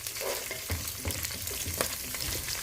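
Onions frying in a pan for pilau, a dense, steady sizzle close by with scattered soft scrapes and clicks of stirring throughout.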